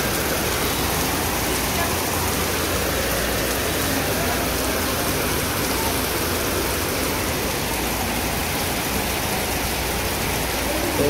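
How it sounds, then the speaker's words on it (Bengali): Light rain falls outside a hospital in a village, a broad, steady wash of close hiss that holds at an even level with no pauses. "এই যে হালকা হালকা বৃষ্টি নামতেছে"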